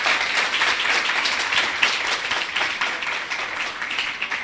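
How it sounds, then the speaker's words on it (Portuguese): Congregation applauding during a church service, a dense steady wash of many hands clapping at close range, sustained evenly without pause. "Vamos aplaudir a palavra do Senhor."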